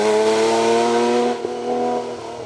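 A Porsche historic rally car at a VHC event holds a steady, loud engine note with strong harmonics, dipping briefly mid-way before resuming and easing off slightly toward the end.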